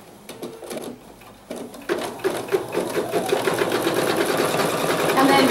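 An embroidery machine runs with white thread, stitching and tacking down fabric in a hoop, starting with a few clicks and building into a fast, steady, loud stitching rhythm while a person talks over it.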